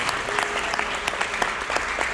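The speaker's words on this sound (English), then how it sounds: "Give her one more big round of applause." Audience applause at a Valentine's Day celebration in a senior living community, a dense steady wash of clapping for a comedian that holds evenly throughout without a break.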